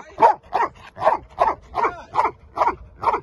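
A small dog barks eight times in an even, rapid rhythm, sharp yappy barks close by with short pauses between them.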